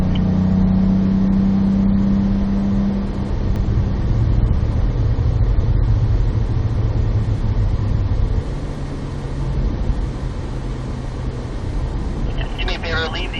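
A car running an outlap on the North Track at Spring Mountain Motorsports Ranch, its engine droning steadily and loud throughout with a sustained low hum, and people talking faintly underneath.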